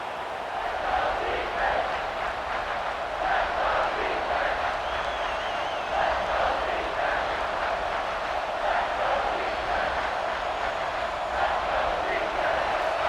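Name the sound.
stadium crowd cheering in video game EA Sports College Football 26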